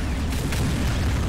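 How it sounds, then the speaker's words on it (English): A giant 100mm cannon firing from a mobile base in a low-poly battlefield defense game mod produces a loud, sustained, rumbling boom that fills the whole moment without speech. "The mobile base is firing a giant cannon."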